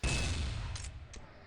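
A loud, booming gunshot from a competitive online shooter match, hitting at once and fading into a noisy rumble, with a few fainter sharp cracks trailing behind it.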